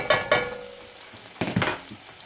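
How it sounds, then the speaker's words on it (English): Minced garlic cloves hit a hot pan in a short burst of sizzling, with sharp scraping clicks of a utensil stirring against the pan, close and fairly quiet. "now I have to add in 3 cloves of garlic that have been minced"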